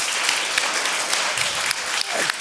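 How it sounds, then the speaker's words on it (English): A live audience at a talk applauds an artist, steady dense clapping filling the space at an even level throughout, with a few louder claps standing out and a faint voice or cheer near the end. "A big round of applause for Carsten."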